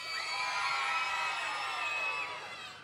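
A crowd cheers at an outdoor Christmas lights switch-on in Antrim, with children shouting and whooping. The cheer is loud and sustained for a few seconds and then starts to tail off.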